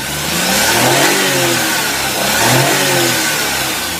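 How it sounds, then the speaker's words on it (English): A Geo Metro engine with a failed ignition coil revs up twice in rough surges, its tone wavering and uneven as it strains to accelerate under light throttle, loud and close. "if I ease up the throttle and play with it, I can make it accelerate."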